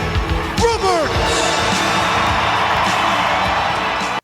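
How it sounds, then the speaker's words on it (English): A wrestling arena crowd cheers during Ted DiBiase vs Jake Roberts, a dense, echoing wash of voices with a few whoops, sustained at full level until it cuts off abruptly. "you hear the way the crowd echoes"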